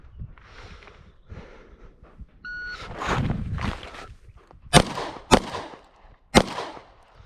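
A short electronic shot-timer beep sounds, followed moments later by three sharp, loud Glock 48 pistol shots spaced about half a second to a second apart.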